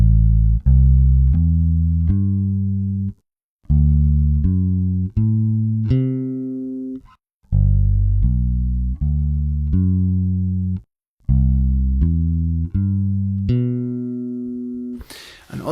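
A bass guitar works through a walking bass line exercise built on root, third, fifth and major seventh arpeggios in C, playing a steady run of distinct, even notes in short phrases separated by brief pauses.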